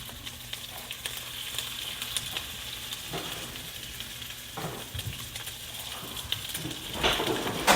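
Crab cakes sizzle in a hot skillet as a steady, close frying hiss, with brief spits and pops and a louder, brighter burst of sizzle near the end; no one speaks.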